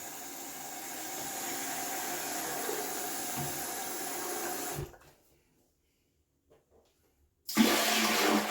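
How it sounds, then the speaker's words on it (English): Water rinsing out a shaving bowl at a sink, a steady running gush that stops abruptly, leaving near silence with a couple of small knocks before the flow bursts back on loudly. "Just gonna do a quick rinse of the bowl."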